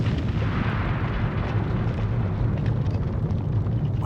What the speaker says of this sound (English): the whole edifice fell with a mighty crash to the ground